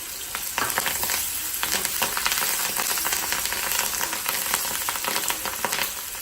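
Curry leaves crackling and sizzling in hot oil for Andhra mango pulihora, a loud dense fry that runs continuously with busy popping throughout.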